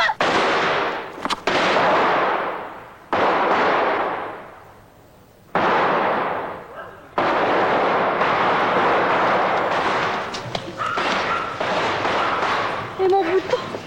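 Loud, sharp firecracker bangs burst one after another, each trailing off in a crackling hiss, ending in a dense run of rapid pops.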